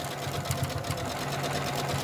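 A sewing machine back stitches over the pleats of a fabric face mask, a steady close whirring hum with a fast regular needle beat, running continuously without talk.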